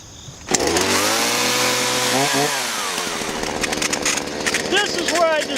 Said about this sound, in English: And a chainsaw.